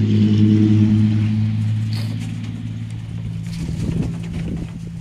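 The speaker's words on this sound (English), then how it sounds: "somebody in their loud, unnecessarily loud vehicle driving by" A loud car engine roars nearby, then fades and shifts in pitch as the vehicle passes, leaving a rumbling drone.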